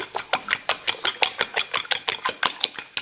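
Seven eggs are whisked briskly in a bowl, with rapid, regular metallic taps and clicks about five per second, close and clear.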